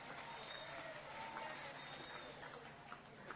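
A crowd at a Women's Day commemoration applauds in a dense, steady wash of clapping, fairly faint and distant, with a voice faintly underneath.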